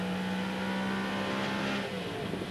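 A 1990 TVR Tuscan race car's engine roars steadily at high revs, then drops in pitch as it downshifts and brakes hard, loud and continuous without a break.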